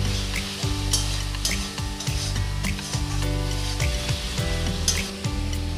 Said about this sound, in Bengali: আমি আবারও ভালো করে আলুর সাথে মশলাটা 2-3 মিনিট ধরে কষে নেব